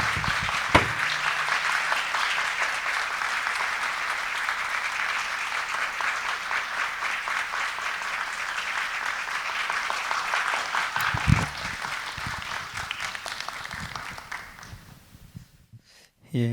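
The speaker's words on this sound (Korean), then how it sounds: "우리 고상섭 목사님 뜨거운 박수로 모시겠습니다" An audience at a pastors' seminar claps warmly to welcome a speaker to the stage, producing a dense, steady round of applause that lasts about fifteen seconds before fading away into quiet.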